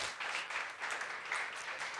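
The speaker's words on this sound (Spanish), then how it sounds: "Vamos a dar un fuerte aplauso al Señor" Church congregation claps in praise during a sermon, a soft, distant patter of many hands clapping steadily with no clear voices over it.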